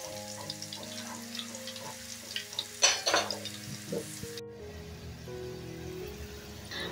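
Jackfruit wafers frying in hot oil on a gas stove, bubbling and crackling steadily with a few louder spattering bursts and faint stirring, close by with no talk.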